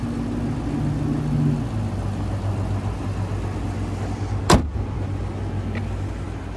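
The hood of a 2012 Lexus LS 460 AWD with a 4.6-liter V8 is shut with one sharp, close slam that stands out against a low, steady background hum.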